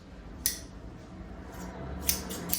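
Scissors snip through dried sheepskin in a few crisp cuts, one early, then two or three close together near the end, with quiet pauses between.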